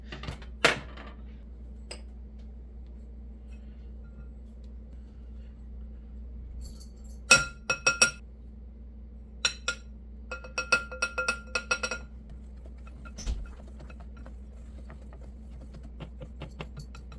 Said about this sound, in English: combining the flour, the cinnamon, the baking soda, and the salt. We're going to mix that until it's combined.